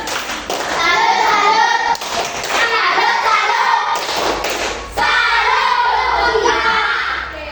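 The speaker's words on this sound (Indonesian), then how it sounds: "Berikan tepuk salut untuk kelompok 3." A classroom group gives a salute clap for a student team after a presentation, with loud rhythmic claps and thumps in bursts throughout, and children's voices mixed in.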